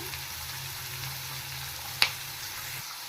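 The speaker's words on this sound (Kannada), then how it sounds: "ನೀಟಾಗಿ ಫ್ರೈ ಮಾಡ್ಕೋಬೇಕು ನಂತರ ಗಡ್ಡೆ ಕೋಸು ಸೇರಿಸ್ತಾ ಇದ್ದೀನಿ" Vegetables and kohlrabi frying in a pan for chapati egg noodles, a faint steady sizzle with a low hum and one sharp utensil tap against the pan.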